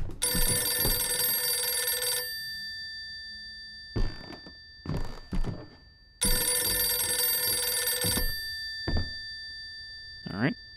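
A telephone rings in the horror video game Visage, two long harmonic bursts of ringing each lasting about two seconds, separated by a gap with speech and soft thuds, loud and close.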